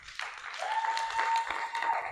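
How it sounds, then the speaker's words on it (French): A church congregation breaks into a brief, dense burst of clapping and cheering, steady throughout with a thin sustained tone running through it. "Commence à lui rendre grâce avec tes acclamations."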